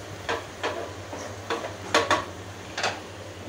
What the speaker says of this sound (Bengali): এই যে আমার পেঁয়াজ আর রসুনটা ভাজা হয়ে গেছে, এবার আমি বাগার দিয়ে দিছি।